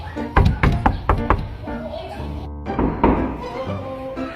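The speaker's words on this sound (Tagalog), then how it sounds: "May kumakatok na naman." Several sharp knocks on a door in quick succession, close and loud, followed by a pause and a couple more knocks, with talking partly overlapping.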